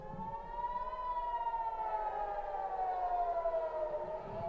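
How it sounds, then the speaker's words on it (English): An air raid siren warning of incoming missiles in Israel wails steadily in the distance, its tone slowly sliding down, sounding alone with no talking. "That's the sound of the sirens going off."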